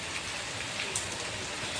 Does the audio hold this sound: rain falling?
yes